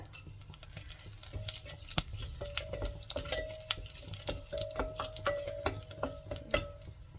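Fennel seeds and peppercorns fry in hot oil in a pot, a soft continuous sizzle dotted with rapid small pops and crackles, close and fairly quiet, with a faint whistling tone running through it.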